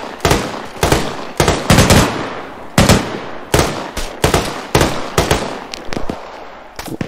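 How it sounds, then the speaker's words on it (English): Enemy gunfire in Arma 3, a dense string of loud, close shots and short bursts fired in an irregular rhythm with little pause between them. "Oh, they're shooting at us."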